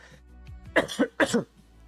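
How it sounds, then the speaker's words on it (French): A person nearby gives two quick, throaty coughs in a row, preceded by faint throat noises, in an otherwise quiet room. "Désolé, je tousse, j'ai un truc dans la gorge."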